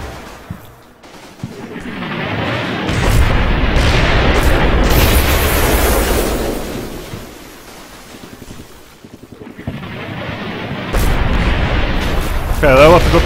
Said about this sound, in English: Okay, that was a good mortar hit.